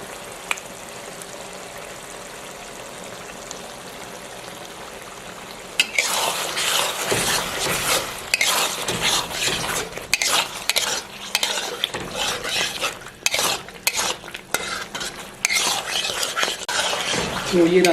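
Cream milk being stirred into beef karahi (balti gosht) in a pot, a spoon scraping and clattering against the metal through a steady sizzle, loud and close, with no talk.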